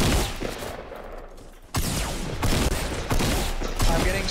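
Rapid gunfire bursts in the video game Fortnite, sharp repeated shots cracking in quick succession after a brief quieter stretch, loud and close.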